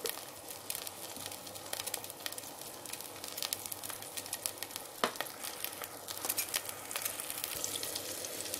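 Spices sizzle and crackle in a hot pan while the masala for vegetable pulao is fried: turmeric, coriander, amchur and chaat powder. The frying is quiet but constant, with scattered pops and stirring scrapes, and no voices.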